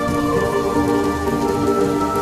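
Rain falls steadily on parched farmland, a close, loud, continuous patter layered with sustained tonal sounds.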